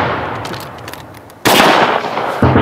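Sharp acetylene-mixture blast that launches barrels, a loud sudden bang with a crackling tail, then a second thud after a rough, hissing stretch.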